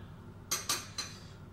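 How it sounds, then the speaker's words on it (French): A small spoon of tomato concentrate knocked against a couscous pot: three quick metallic clinks, close and fairly sharp, the first two close together, then a quiet room with no talking. "Je rajoute une petite cuillère de concentré de tomate."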